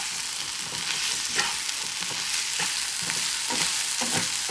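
Taro stems fry in a pan with a steady hiss while a spatula scrapes and stirs in soft, repeated strokes, close and continuous, with no voices.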